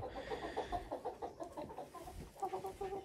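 Hens clucking in a steady, busy stream, several soft rhythmic clucks overlapping close by with no voices.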